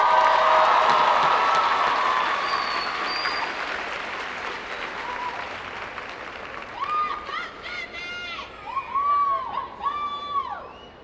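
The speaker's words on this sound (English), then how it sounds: "Give yourself a round of applause." York College's graduating class of 2012 applauding at a spring commencement ceremony, a dense burst of clapping and crowd noise that swells at first and then gradually fades, leaving scattered brighter sounds near the end.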